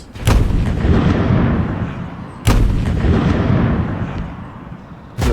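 Two booming tank cannon shots in a Roblox tank simulator game, one right after the start and another about two seconds later, each with a long rumbling tail, loud and close, and a third blast beginning at the very end.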